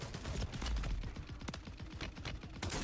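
Rapid bursts of automatic gunfire rattle through a Call of Duty firefight, dense overlapping shots forming a loud, continuous fusillade with no talk over it.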